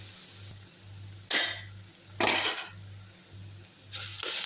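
Onion and garlic are stirred in a pan for an egg masala, with a few loud scraping, clattering spatula strokes over a steady low hum between them.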